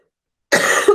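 A single harsh, close cough bursting out after a moment of silence, short and loud with a slight throaty tail.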